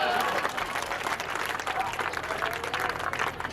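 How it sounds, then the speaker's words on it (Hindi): Audience applause for poet Amit Shukla at a Hindi comedy poetry gathering, a dense, steady wash of clapping from a crowd held for several seconds, with voices mixed in. "तो जोरदार तालियां अमित शुक्ला के लिए"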